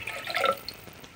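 Water being poured into a pot for rice pudding, a short splashing trickle that fades quickly, close and alone without talking.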